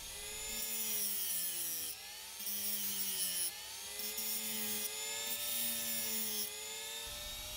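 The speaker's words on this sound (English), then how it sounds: "Power tools." A high-pitched rotary power tool whines as it cuts through iPhone 13 connector pins, pitch dipping and rising in several bursts under load, close and loud.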